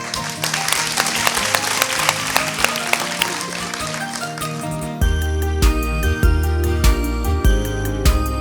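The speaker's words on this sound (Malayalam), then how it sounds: "മോൾക്ക് വേണ്ടി ഒരു വലിയ കൈയടി" A burst of crowd applause with music under it, then the clapping gives way to a steady, bass-heavy tune.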